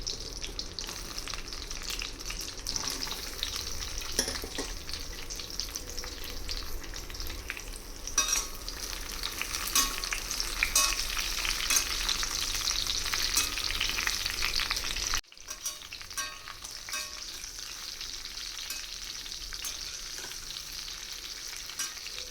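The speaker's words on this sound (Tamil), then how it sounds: "நான் கட் பண்ணி வச்சுருந்த கத்திரிக்காயை நல்லா வந்து வதக்கி எடுத்துக்கலாம்." Brinjal (eggplant) pieces sauté in a pan with a steady, close frying sizzle and occasional stirring scrapes. The sound runs continuously and briefly dips partway through before carrying on, with no talking.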